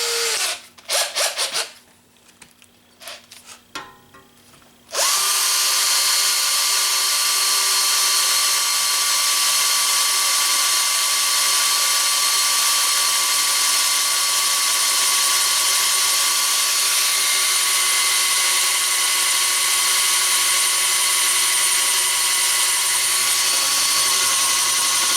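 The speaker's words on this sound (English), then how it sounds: "we're going to use the big bit, which is a 1/2 inch bit, and we'll see if it'll pop a hole through the metal also" A Bosch DDB181 compact 18V cordless drill/driver bores a 1/2 inch hole through metal. A few brief clicks and bursts come first, then the motor settles into a loud, sustained, even whine that runs to the end.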